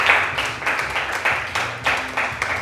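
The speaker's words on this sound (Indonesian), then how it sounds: "beri tepuk tangan untuk kalian semua" A small group in a classroom claps in uneven bursts, several loud pulses of clapping close by with no talking over it.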